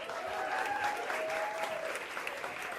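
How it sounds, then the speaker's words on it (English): An audience bursts into a big round of applause at a discussion event, the clapping steady and full, a continuous crowd-wide patter that never thins out over the few seconds. "big round of applause for Peter."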